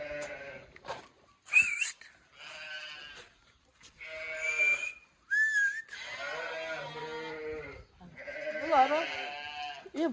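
Several sheep bleat in turn, wavering calls close by in a pen, interspersed with short pauses and a few whistle-like cries from the flock.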